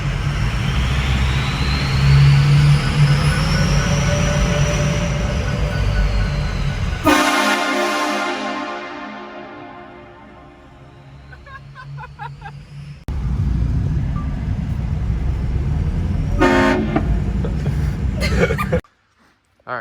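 Hornblasters train horns mounted on a truck blast in long, loud, sustained tones with a stacked chord, cutting off abruptly, then more bursts as the horns sound again in the open.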